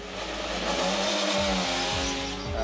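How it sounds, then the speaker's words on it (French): The Alpine 2023 Formula 1 car, out for a morning test run, screams past with a high-revving engine that rises, then drops through several rapid gear shifts, loud and close. "C'est Pierre Gasly qui s'élance le premier matin avec l'Alpine 2023."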